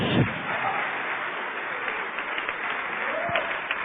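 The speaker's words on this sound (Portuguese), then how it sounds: "Vamos aplaudir, igreja, vamos aplaudir." A church congregation claps during a Portuguese-language service, producing a steady, muffled wash of applause from a large crowd that holds for several seconds with no clear pauses.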